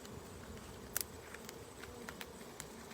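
Honey bees return to their hive, a faint, steady insect drone with a few sharper buzzes and passing wing whines close to the microphone, without any voices.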